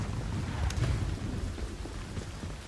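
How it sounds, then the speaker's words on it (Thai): Rain falling in the video game Once Human, a soft steady patter of drops with a low rumbling undertone, fairly faint and continuous with no voices. "ฝนตกหน่อยนะครับคลิปนี้"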